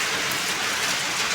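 Steady rain pours down, a dense, even hiss of drops on surfaces that fills the whole moment with no other sound breaking through.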